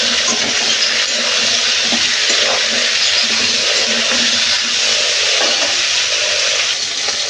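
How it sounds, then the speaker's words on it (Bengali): Potatoes, seasoned with turmeric and salt, fry in hot oil, giving a loud, steady, dense sizzle that continues without a break throughout, with no talking. "এবার আলুগুলো একটু আমি ভালো করে লাল লাল করে ভাজি করে নেব।"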